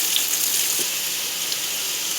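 Steady high hiss and crackle of onions frying in oil for onion tomato chutney, close by, with faint clicks and no talking.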